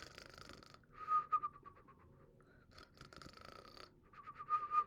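A voice imitates loud snoring, with deep rasping inhales broken by whistling, fluttering exhales, repeated in slow cycles and fairly close.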